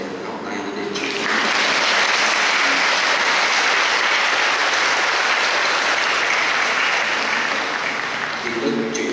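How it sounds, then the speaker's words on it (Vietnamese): A church congregation at a parish ceremony in Tan Dinh breaks into sustained, loud applause in celebration, steady dense clapping for most of the stretch, with a voice briefly heard before and after. "Xin cộng đoàn chúng ta cho một tràng pháo tay để chúc mừng."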